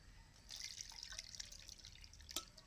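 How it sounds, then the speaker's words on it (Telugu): Water draining from boiled, cooled mango pieces through a strainer: a faint, quiet trickle with scattered drips and one sharper clink near the end. "ఇలా పూర్తిగా చల్లారిన తర్వాత వాటర్ని స్ట్రెయిన్ చేసుకుని"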